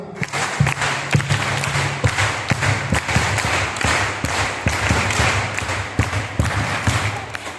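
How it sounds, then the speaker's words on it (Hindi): A crowd of young people at an International Youth Day celebration in a Jharkhand parish claps in the scout-style 1-2-3 pattern, sharp rhythmic bursts of hand claps repeating steadily and loudly across the room. "और हम लोग स्काउट वाला ताली बजाते ना, वो वाला ताली, 1 2 3 वाला ना"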